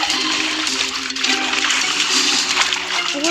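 Water splashes and churns continuously as a character swims through it in the Roblox game Evil Grandpa, a loud, busy wash of sound, with a voice faintly present beneath it.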